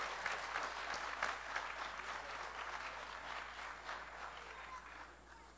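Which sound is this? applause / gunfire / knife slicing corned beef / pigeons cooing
applause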